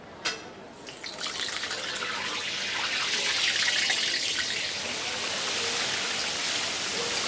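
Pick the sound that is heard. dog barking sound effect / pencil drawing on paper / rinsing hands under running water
rinsing hands under running water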